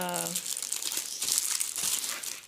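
A folder for school notebooks being handled, giving a steady plastic crinkling and rustling close by for a couple of seconds, with a brief voice at the very start.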